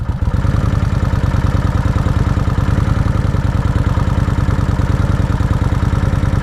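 A 2003 Kawasaki Vulcan 1600 motorcycle engine idles with a steady, loud, low throbbing pulse and mechanical clatter, running evenly without any talk.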